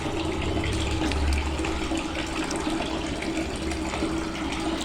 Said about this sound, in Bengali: এখন মাছটাকে আমি ঝুড়িতে নিয়ে পানিটা ঝরাই নেব।